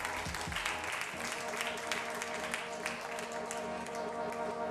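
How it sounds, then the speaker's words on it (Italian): Audience applause for a contestant at a regional Miss World beauty pageant final, a steady dense clapping that holds evenly throughout, with music playing underneath. "Un applauso per Federica."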